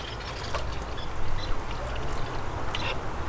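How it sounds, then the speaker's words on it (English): Rainwater dripping and trickling from a measuring cup into a blueberry container, a soft continuous patter with small splashes outdoors. "letting it drip completely"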